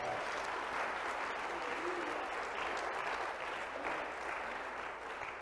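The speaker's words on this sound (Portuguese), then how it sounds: "Quem pode dar um aplauso a Jesus nessa noite?" A church congregation applauds steadily through an evening worship service, with dense, sustained clapping filling the room at an even level and a few faint voices mixed in.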